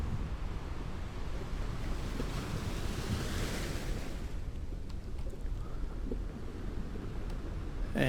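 Ocean surf rolls steadily along a cold, murky European coastline, a continuous wash of breaking waves with wind noise, close and even throughout with no voices.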